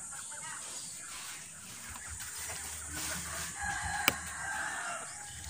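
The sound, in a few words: chicken on a farm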